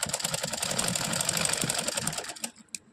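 A sewing machine stitches a patti joint in a fast, even mechanical whir up close, stopping abruptly near the end with a few light clicks.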